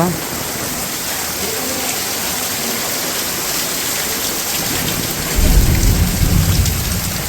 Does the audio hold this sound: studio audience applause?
no